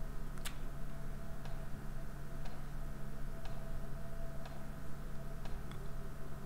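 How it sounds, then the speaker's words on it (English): A clock ticks in a quiet house late at night, faint sharp ticks about once a second over a steady low background hum. "Oh, that's a clock."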